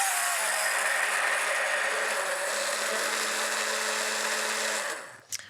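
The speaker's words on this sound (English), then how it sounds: "So just use a stick blender to blend." A stick blender pureeing dragon fruit whirs continuously for about five seconds, loud and close, with a steady motor drone that cuts off abruptly at the end.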